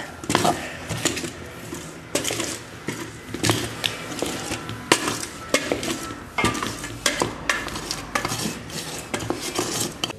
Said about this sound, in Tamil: இந்த எள்ளு வந்து ஈவனாக எல்லா இடத்துலையும் சேர்ந்த மாதிரி நல்லா கிளறி விட்டுக்கோங்க.